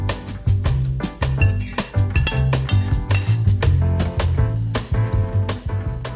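Fried potatoes being strained in a home kitchen set off a near-constant run of loud, close metallic clinks and clatters of kitchenware, rhythmic and busy throughout.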